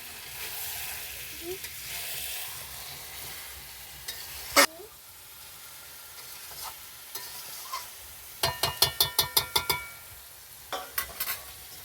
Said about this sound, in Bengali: এবার মাংসটা দিয়ে ভালো করে নাড়ছে